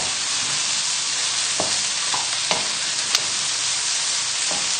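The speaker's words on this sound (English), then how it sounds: "So just keep moving the mushrooms around." Mushrooms and garlic fry in a pan with a steady, even sizzle, while a utensil stirs through them in a few soft scraping strokes, close and alone without talk.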